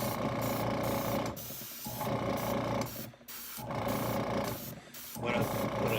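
An airbrush sprays black paint onto a model of Dracula's dragster, giving a steady, close hiss in bursts of about a second with short pauses between passes.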